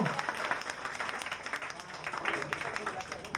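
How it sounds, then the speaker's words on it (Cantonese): Steady applause from wedding lunch guests for the newlyweds, dense clapping that holds for a few seconds with voices mixed in. "用啲掌聲嚟到祝賀一對新人先"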